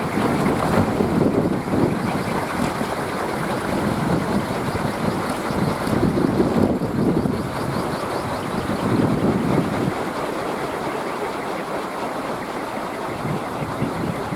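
Strong wind blows outdoors on a bright, clear day, buffeting the microphone with a continuous rough rush that swells in gusts, easing slightly toward the end.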